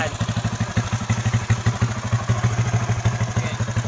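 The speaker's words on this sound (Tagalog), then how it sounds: "Ganito pinapandar yung walang kick kasi starter." A Honda Wave 125i motorcycle engine running after an electric-start, loud and close, with a steady rapid thumping idle pulse throughout.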